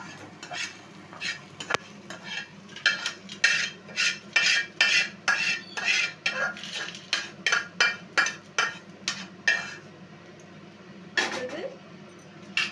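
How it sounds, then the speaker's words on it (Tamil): A metal spoon scrapes and clatters steadily in a pan as mudakathan leaves are stirred and roasted, a close, rhythmic run of sharp scraping strokes with a short pause near the end. "இப்போ முடக்கத்தான் வறுத்துக்கலாம்."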